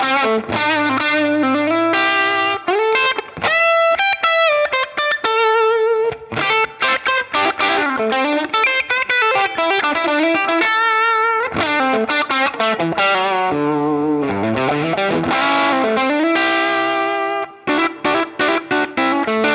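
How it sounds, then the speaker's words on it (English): Distorted electric guitar played through the Line 6 Helix modeler's Fullerton stock cab, loud and continuous, with dense sustained chords and quick riffing runs and only brief gaps between phrases, no voices. "listen to what the new Fullerton cab sounds like with all the identical settings"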